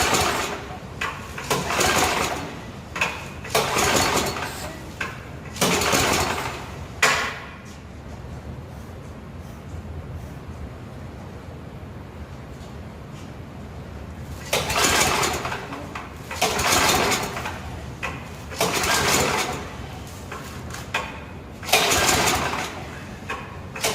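An Ariens ST824 two-stage snow blower engine is cranked again and again in loud bursts of pull-starting. It turns over but never catches, and quiet pauses fall between the attempts.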